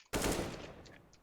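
One loud, close gunshot from Counter-Strike: Global Offensive, an abrupt blast whose tail fades over about a second.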